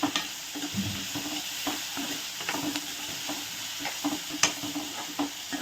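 Onions with salt sauté in a pan, a constant close sizzle broken by repeated scraping stirs from a spatula, with no voices.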